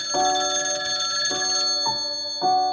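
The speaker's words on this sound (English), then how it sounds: "That's when his phone rings." A telephone rings in a bright, tonal electronic pattern, several ring pulses repeating close and clear with no voices.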